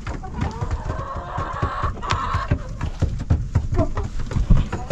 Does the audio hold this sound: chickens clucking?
yes